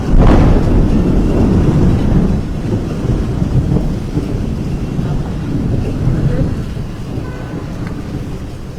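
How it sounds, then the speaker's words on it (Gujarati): Heavy downpour during a thunderstorm in Vadodara's Raopura area, with a loud rumbling thunderclap at the start that fades into dense, steady rain and wind buffeting the microphone. "વીજળીના કડાકા ભડાકા સાથે આ વરસાદ વરસી રહ્યો છે"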